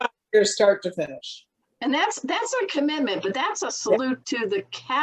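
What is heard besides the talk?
No distinct noise like a dog, phone or traffic.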